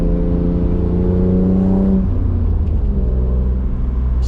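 A BMW E36 M3 fitted with loud headers drives along, its engine giving a steady, deep, close droning hum that shifts pitch slightly as it cruises, with no talking.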